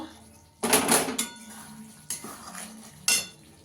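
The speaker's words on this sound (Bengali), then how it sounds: "ঢাকনাটা তুলে একটু নাড়া দিয়ে দেবো।" A lid lifts off a pot of malai chicken over a low gas flame, then metal clinks and scrapes as the contents are stirred, three or four short, close knocks with quiet pauses between them.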